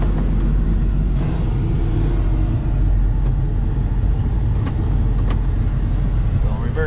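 A replica Chevy Blazer's engine rumbles loud and close as the vehicle sets off, a steady low-pitched drone throughout with occasional clicks and knocks on top.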